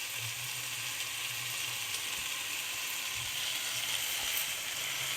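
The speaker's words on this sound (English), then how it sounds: "Next comes in is the jeera rice, which we'll add to this now and then fry for a little while" Jeera rice frying in a pan for a spicy shrimp pulao, a soft, steady sizzle and hiss that carries evenly throughout with no speech.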